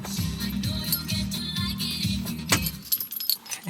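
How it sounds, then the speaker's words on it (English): Car keys jangling close up as they are handled and put into a car, a bright metallic rattle with a low hum underneath, ending in a few louder clinks. "I have to keep putting my key in the car to like re-put the light on"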